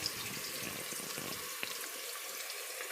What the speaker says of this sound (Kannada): ಈರುಳ್ಳಿ ಸ್ವಲ್ಪ ಫ್ರೈ ಆಗ್ತಿದೆ.